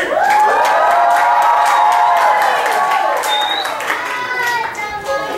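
Children at a vacation Bible school cheer together in a loud, sustained burst of high voices and shouts, with some clapping mixed in, tapering slightly toward the end.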